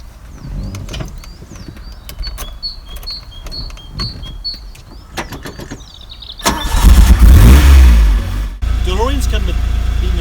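A DeLorean's engine cranks and catches partway through, then runs loud and close with a rough, rumbling idle, after a stretch of quiet clicks and a faint whistle with people talking.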